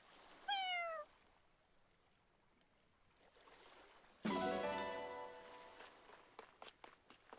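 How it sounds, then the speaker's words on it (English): Cat meowing in the video game Fire Emblem Engage: a short rising meow near the start, then a louder, longer meow after a pause, followed by soft footstep-like taps, with no talking. "Oh, you're a cat!"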